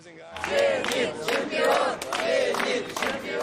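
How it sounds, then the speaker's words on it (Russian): Zenit-Kazan volleyball fans greet the team at home with rhythmic victory chants, a large crowd shouting in repeated loud bursts that rise and fall. "Уже дома команду встречают победными кличами болельщиков."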